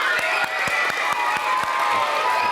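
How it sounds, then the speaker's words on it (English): Audience at a school science show applauds and cheers together, a dense steady wash of clapping with a few sharp claps standing out and some shouting mixed in. "round of applause."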